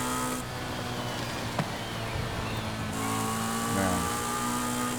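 The Porsche 918 Spyder in Forza Horizon drones at a steady, moderate level, its engine tone holding even and shifting slightly partway through, with no talking.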